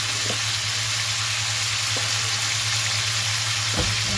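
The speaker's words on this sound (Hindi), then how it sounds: "इसे अच्छी तरह से फ्राई करनी है और इसे सॉफ्ट करनी है।" Drumstick (sajina) and potato curry fries in a pan with a steady, even sizzle throughout, broken by a few faint clicks, while a low electrical hum runs underneath.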